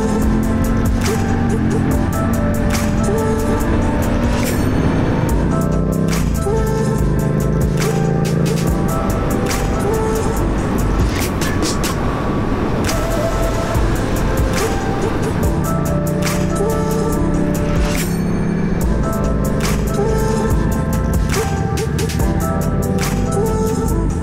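A customized red motorcycle engine rumbles loudly and steadily nearby, idling and revving throughout, with people talking over it at times.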